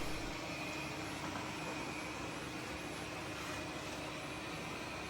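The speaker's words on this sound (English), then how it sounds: "Here I have it vacuuming up an entrance carpet." A Roidmi EVA robot vacuum running over an entrance carpet scattered with wood chips, a steady close whirring hum with a high-pitched motor whine, continuous and unbroken.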